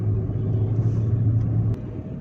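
A 1.4-liter Volkswagen Santana with a manual transmission drives along, its engine giving a steady low in-cabin rumble before dropping off slightly near the end.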